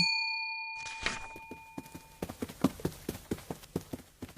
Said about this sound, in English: a little more organ music and some bell ringing